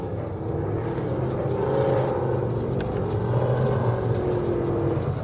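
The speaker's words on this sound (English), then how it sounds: "Now you can hear the roar of Todd Jackson here in the background coming into the Spaghetti Bowl" An off-road race truck engine roars steadily in the background during Baja Nevada desert qualifying, a sustained loud drone with a faint rising and falling pitch and no talk over it.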